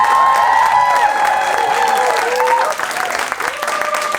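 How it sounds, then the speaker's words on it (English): A comedy audience applauds and cheers at the end of a headline stand-up set, loud and full from the start, thinning slightly toward the end, with scattered whoops and voices mixed in. "Round of applause for Aayushi"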